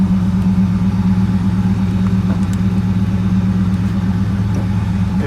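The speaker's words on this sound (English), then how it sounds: "Now I'll pull the handle, suspension handle, so it'll raise up." Mercedes 6.9 V8 running cold at a steady idle while its hydropneumatic suspension raises the car; a constant, close, even engine drone with a low hum that holds unchanged throughout.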